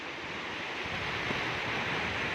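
Heavy water pouring over a rock face after monsoon rain, a steady broad rushing roar, constant and moderately loud, with no voices.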